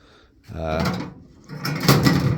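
A large drawer on a homemade tool box full of pliers slides open or shut, two fairly loud rumbling wooden slides close by, with a person talking over them.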